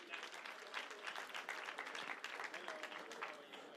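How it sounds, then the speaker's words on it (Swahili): Audience applause at a Joyful Women anniversary event, a sustained spread of clapping from a crowd at moderate distance, with voices mixed in. "Makofi kwao tafadhali"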